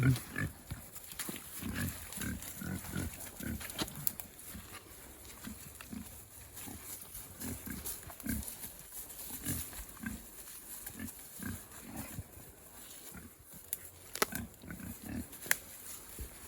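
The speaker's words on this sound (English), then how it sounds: "Free range pigs at the moment." Free-range farm pigs grunt and snort repeatedly at close range, a steady irregular stream of low rhythmic grunts across the whole stretch with scattered louder snorts.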